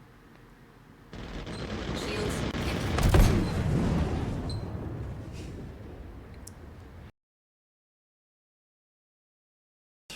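Ship weapons fire in the Star Citizen video game, a Corsair trading shots with another ship, heard as a loud sustained barrage of blasts and rumbling impacts lasting about six seconds with a sharp peak midway, then cutting to silence.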